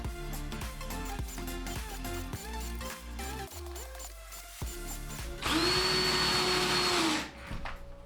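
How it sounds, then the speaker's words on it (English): A power tool drives screws into the base of a table saw crosscut sled. Repeated short motor bursts rise and stop, then one long, loud sustained whine follows near the end, all heard up close. "let's just speed through this section, get all the screws installed"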